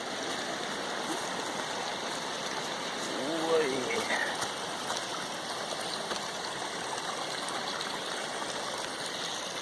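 A clear mountain stream flows near Ribbon Falls in Kananaskis, Alberta, producing a steady, fairly soft rushing wash of water that fills the whole stretch, with a faint voice briefly audible in the middle.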